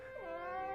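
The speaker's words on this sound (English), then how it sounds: "Your cat was scared, wasn't she?" A cartoon cat in an animated film gives one drawn-out, wavering meow, clear and close, with a rising then bending tone, and nothing else over it.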